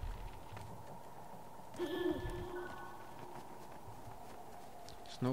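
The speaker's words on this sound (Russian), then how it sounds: "Снова сова." Owl hoot from the Never Alone video game: a brief tonal call rising over steady low ambient game noise, moderately loud, with no talk during it.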